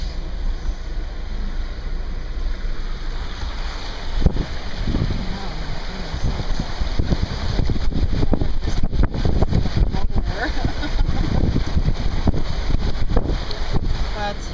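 A car ploughs through deep floodwater on a flooded highway, producing a continuous rushing splash mixed with wind buffeting that swells louder after the first few seconds and carries sharp bursts of spray.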